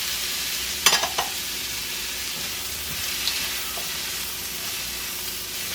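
Carrots, snow peas and sweet pepper sautéing for Singapore noodles, an even background sizzle with a couple of sharp utensil clinks near the start.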